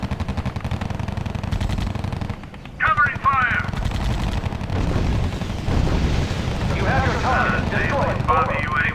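Covering gunfire in the strategy video game R.U.S.E.: sustained, dense machine-gun bursts and rumbling battle noise fill the whole stretch, with voices speaking over the din.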